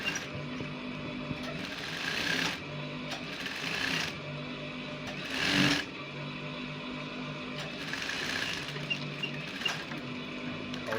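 A domestic sewing machine runs in bursts while stitching the crotch seam of jogger sweatpants, close and fairly quiet, with a rapid mechanical whir, brief pauses between runs and a sharper clack near the middle.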